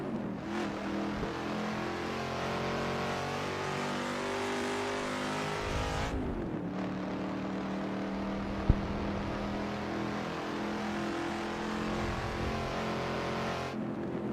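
Sim racing car in Assetto Corsa, a dream car with the rev gauge built into its clock, roaring steadily as its engine revs and climbs through the gears, with short lift-off dips and one sharp click; no talking.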